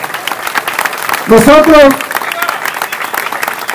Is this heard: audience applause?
yes